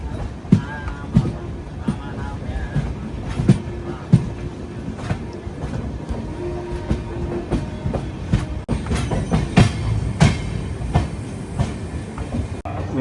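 An express train rolls into a platform at Vijayawada Junction, with rhythmic wheel clatter and clanks over the rails, heard from on board with station noise and some talking.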